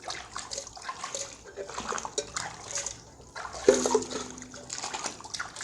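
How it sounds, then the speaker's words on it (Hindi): Dishes being washed with hot water at home, with running water and sloshing, clattering splashes that come and go, moderately close and fairly quiet, with no one speaking. "बर्तन धो रही हूँ।"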